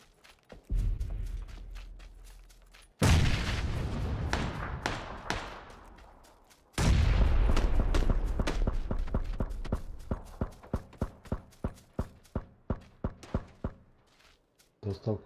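Gunfire in the battle royale video game PlayerUnknown's Battlegrounds: two loud broadband bursts of shooting, followed by a long run of sharp, evenly spaced shots that grow sparser toward the end.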